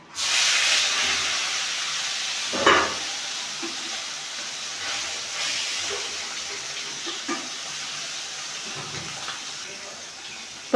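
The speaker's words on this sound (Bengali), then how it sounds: "মাছের মাথাটাও ভেজে নেব" A continuous sizzle of a fish head frying in hot oil, broken by a few brief louder pops and clatters.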